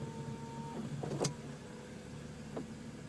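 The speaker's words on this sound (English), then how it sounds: "All 4 windows will drop down" Power windows of a BMW Z4 sDrive30i roadster lowering, a short whirring motor hum that stops with a soft thunk, followed by another faint click, heard close with no talking.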